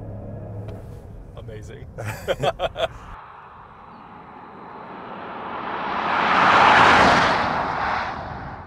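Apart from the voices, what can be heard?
electric Rolls-Royce Spectre accelerating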